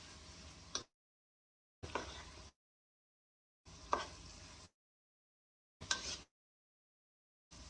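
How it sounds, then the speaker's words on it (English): Mushrooms are stirred in a pan in four short bursts of scraping and soft sizzling, each about half a second long, separated by silent gaps. "stirring these all up, because you know mushrooms are like sponges"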